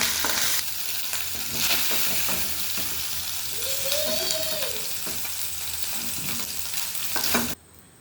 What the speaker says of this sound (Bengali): দেখো বন্ধু, চিকেনটা দেখছো কালারটা কত চেঞ্জ হয়ে গেছে ভাজতে ভাজতে।